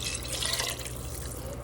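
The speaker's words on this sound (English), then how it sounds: "I'm gonna add some water." Water runs steadily into a cooking pot, a continuous splashing pour heard close up with no talk.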